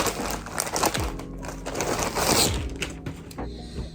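Plastic bags crinkle and rustle up close, a continuous crackly handling noise with no one talking.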